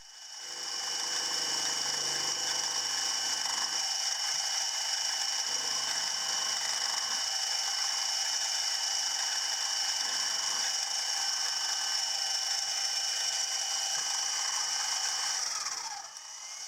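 Milling machine running a centre drill down into the bore edge of a Stuart Progress oscillating engine cylinder, a steady mechanical whine with faint intermittent low cutting grind.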